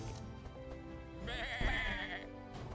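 A sheep bleats in the Across the Obelisk video game, a single drawn-out wavering bleat over game music, fairly clear and mid-distance.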